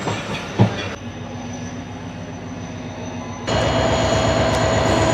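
The Tezgam Express (7 Up) at Bahawalpur railway station, running four hours late, gives a continuous rolling rumble and clatter of rail cars with a sharp knock early on, growing noticeably louder partway through.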